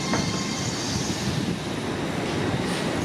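An LNER Azuma train at Peterborough station, a steady, loud rumble of rolling stock and wheel noise filling the platform without a break, with no talk over it.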